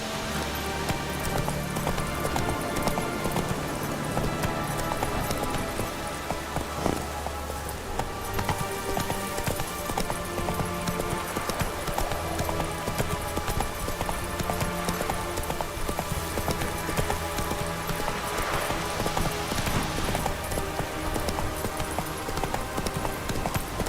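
Roach, a horse in The Witcher 3, gallops with a fast, continuous rhythm of hoofbeats, loud and close, set against a dense wash of ambient noise that sounds like rain.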